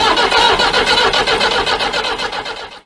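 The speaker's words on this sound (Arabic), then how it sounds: "بيشغلوا فيها مش راضي تشتغل" A car that has broken down on a road trip toward a forest cranks repeatedly without catching, a loud, close, rhythmic churn of the starter that pulses steadily and then trails off.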